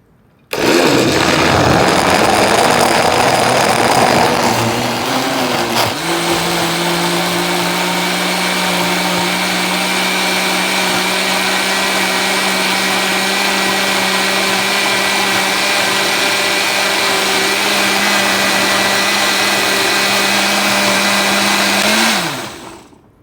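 A kitchen blender whirring through a watermelon smoothie, switched on with a finger on the lid: a loud, steady motor drone that dips in pitch after a few seconds as the load evens out, then runs alone until it cuts off.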